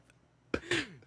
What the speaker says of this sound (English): I'm just coughing on the mic